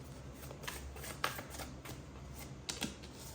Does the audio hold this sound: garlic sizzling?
no